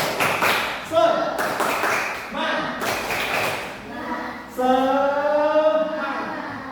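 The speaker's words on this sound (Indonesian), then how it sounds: "yuk kita tepuk semangat" A classroom of students doing the rhythmic 'tepuk semangat' clapping chant: patterned claps and taps mixed with chanted voices, fairly close and lively.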